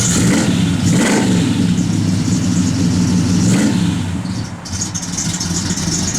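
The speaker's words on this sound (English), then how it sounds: "Give it a rev there, Jordy." A 1967 Oldsmobile 442 convertible with big exhaust pipes revving loudly and close, its engine rising and falling in a few throaty surges over a rumbling idle.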